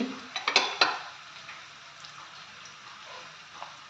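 Whole spices (cloves, black peppercorns, cinnamon, cardamom, bay leaf and dried red chillies) sauté in a pan for a vegetable stew, starting with a few clattering stirs and then a soft, steady sizzle.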